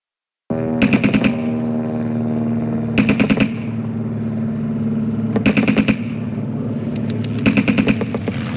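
Machine gun fire from a helicopter gunner heard through a played video, with loud rapid bursts of shots repeating about every two seconds over a steady low engine drone.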